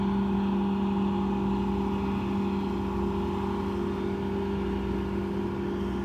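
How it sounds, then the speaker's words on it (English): Tow boats motoring past on the water in Miami, a steady droning engine hum with a strong low tone that holds constant and fairly close throughout, no voices. "Those are the tow trucks, the tow boats."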